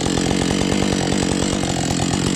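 A chainsaw cuts through a log on a trail, a loud, close, continuous buzzing whine with a rapid rattling pulse as the chain bites the wood.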